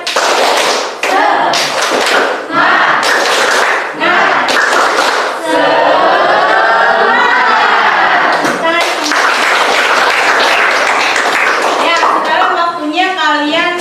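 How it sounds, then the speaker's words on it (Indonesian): An audience gives a rhythmic spirit clap in a classroom setting, loud bursts of patterned claps in sequence, with voices chanting and shouting along over them. "Tepuk semangat."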